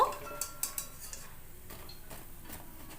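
Fried semolina and egg pitha are lifted from hot oil with metal utensils, giving several light clinks and taps against the pan, close and quiet over a faint background hiss.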